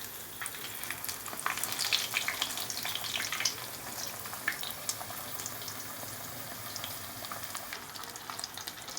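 Chicken schnitzel fries in a pan, giving a steady crackling sizzle with bursts of sharper spitting pops, close and moderately loud, with no talk.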